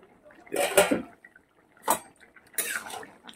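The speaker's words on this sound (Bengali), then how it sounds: "ঢাকনাটা খুলে দিলাম।" A lid comes off a cooking pot of bottle gourd and potato curry with a metallic clatter, followed by two more brief knocks and clinks of metal cookware, each short and close against a quiet background.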